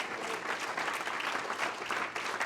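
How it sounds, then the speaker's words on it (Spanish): Congregation at a church service claps together in a steady, moderately faint round of applause from many people, holding at an even level without pause. "Denle un aplauso a nuestro Dios."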